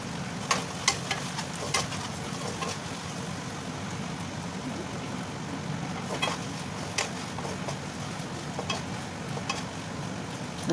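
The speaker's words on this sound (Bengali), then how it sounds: "পেঁয়াজগুলো আমি ভালো করে ভেজে নিচ্ছি।" Onions fry in a pan with a quiet, continuous sizzle while a utensil stirs them, adding intermittent sharp clicks and scrapes.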